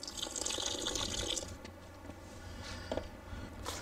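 Water poured over amaranth seeds to soak them makes a quiet trickle and patter with a few faint drips and splashes, soft and close, with no speech.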